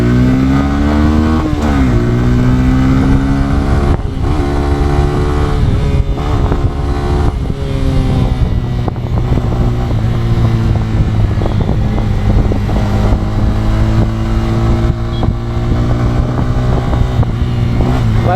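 A Bajaj Pulsar N125 motorcycle with an integrated starter generator on a road ride: a loud, steady engine drone close by, rising and falling with gear changes and revving harder at times, with rushing wind underneath.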